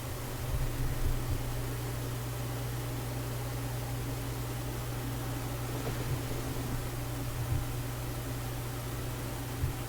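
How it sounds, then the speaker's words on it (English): Constant whooshing computer fan noise with a low steady hum underneath, a continuous airy hiss that never changes over the whole stretch. "the noise you're hearing basically is the fan"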